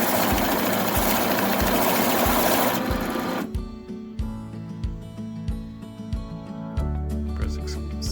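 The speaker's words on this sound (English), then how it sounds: "it will count the banknotes as soon as I feed it to the machine" A DM950 high-speed currency counter with a printer whirs steadily as it riffles through a stack of banknotes, then drops to a lower mechanical hum with rhythmic clicks and thumps, loud and close throughout.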